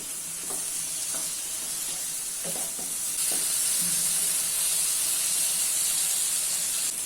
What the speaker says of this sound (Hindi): अभी इसमें कटे हुए धनिया के पत्ते ऐड कर लेना है और मिक्स कर लेना है।